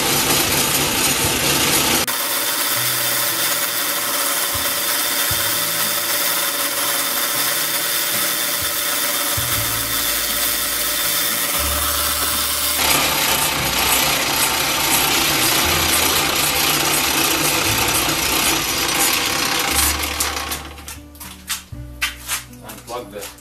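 Lathe turning and cutting a drill shaft for an antique Swan beam drill, a steady loud mechanical whir with shifting grinding tones as the tool bites, winding down with irregular knocks at the end.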